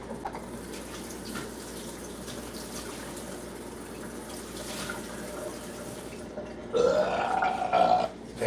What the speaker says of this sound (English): I'm burping a lot